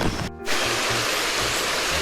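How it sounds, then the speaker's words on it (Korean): Mountain valley stream at Yeongji gorge on Myeongjisan, clear water rushing steadily as a loud, continuous broadband wash with no voices. "계곡 물소리 들리시나요?"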